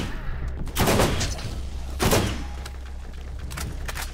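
Gunfire from the Borderlands video game, two loud bursts of shots about a second apart, with a steady game background hum filling the gaps.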